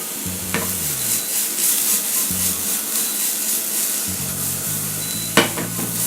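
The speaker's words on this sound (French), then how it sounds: "Une fois les champignons bien poêlés, les réserver." Mushrooms fry in a pan with a little olive oil, a close, steady crackling sizzle under intermittent stirring scrapes and a low motor hum, with one sharp clack near the end and no talking.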